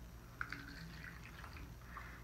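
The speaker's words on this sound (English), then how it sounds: "So you can see as the water is going in, it is a liquid." Water is poured into small paper Dixie cups, a faint trickling with a couple of soft drips and bubbly splashes, quiet and close.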